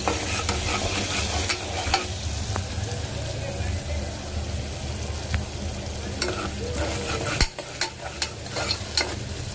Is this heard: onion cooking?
yes